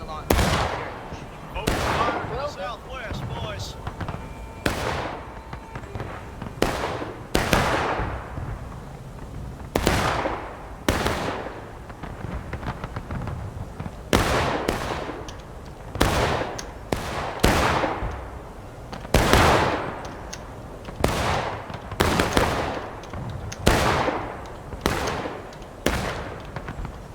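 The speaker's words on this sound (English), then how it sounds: "Open fire to the southwest, boys." Musket volleys and scattered rifle shots from soldiers in the Civil War game War of Rights, coming as repeated sharp cracks, some close and loud and others farther off, with voices heard between them.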